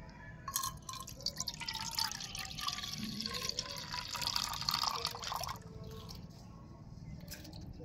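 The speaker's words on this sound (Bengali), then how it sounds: "এই চালটাকে আমি 2 থেকে 3 বার ভালো করে ধুয়ে পরিষ্কার করে নেব।" Rice rinsed by hand in a bowl of water: soft sloshing, swirling and dripping for several seconds, close and quiet, then easing into a faint background hum.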